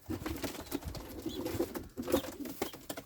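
Low, throaty racing pigeon cooing repeats close by, soft rolling coos with faint rustling in between.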